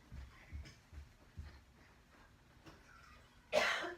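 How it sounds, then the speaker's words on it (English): A single sharp cough bursts out near the end after several seconds of quiet, low muffled sounds, close and fairly loud against the otherwise hushed room. "I have a cough still."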